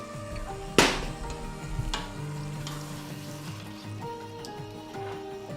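A stew cooking in stock sizzles and bubbles softly in a pan, with a sharp clack of a utensil against the pan as it is stirred and a few lighter taps afterward.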